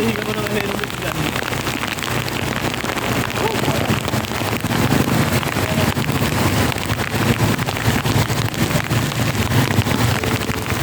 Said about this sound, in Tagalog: Ay, may ulan.